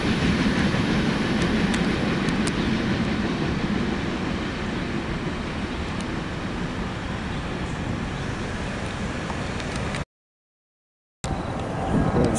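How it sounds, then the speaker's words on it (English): A Caltrain passenger train rumbles past on the Peninsula line, a loud continuous roar with faint wheel clicks, broken by a brief dropout near the end. "There's Caltrain 138."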